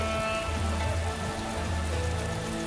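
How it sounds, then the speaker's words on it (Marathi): Heavy rain pours in a continuous wash of drops, steady and fairly loud, with a low droning tone running beneath it and no speech. "एवढ्या पावसातून जायचं?"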